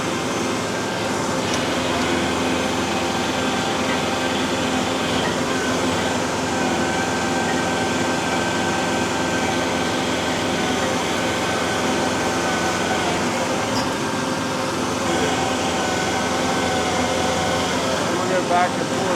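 A skid steer with an EA Pulverizer attachment breaking up trash- and rock-strewn ground on a lot: a steady loud engine drone with mechanical rumble, continuous throughout, with a voice speaking over it.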